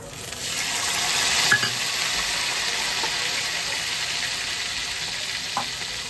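Black cumin seeds and green chillies fry in hot oil for a hilsa fish curry, giving a steady soft sizzle with a couple of faint clinks, close and moderately quiet, with no talk.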